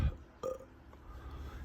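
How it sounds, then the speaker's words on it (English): A man gives a single short burp that sounds close and fairly quiet against a low room hum. "I just burped."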